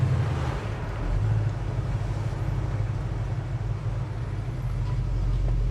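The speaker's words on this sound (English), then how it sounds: "This engine sound though, Graham, like, I don't know, it's just perfe" A 1967 Chevrolet Chevelle SS engine idling with a stock exhaust, a steady deep low rumble held evenly throughout, close and fairly loud, with no talking.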